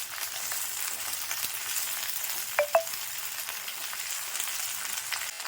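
Okra frying in oil in a pan for a tamarind-style curry with peanuts, a steady soft sizzle throughout with a couple of brief clinks near the middle, no voices.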